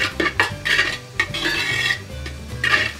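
Three medium onions cook with ginger and garlic in a pan while a spoon scrapes and stirs them. Metal clinks and rasps repeat steadily close up, with a low sizzle underneath and no voices.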